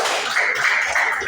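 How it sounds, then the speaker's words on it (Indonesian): Short burst of applause from students in a classroom, brisk clapping close by and fairly loud, with no talk over it. "Kalau tidak ada, berikan tepuk tangan."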